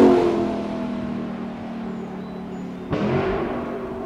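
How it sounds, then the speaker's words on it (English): A Lexus LC 500's naturally aspirated 5-liter V8 holds a steady, rich idle-like drone, then a sharp rev kicks in near the end and stays loud. "It has a naturally aspirated 5-liter V8 under the hood"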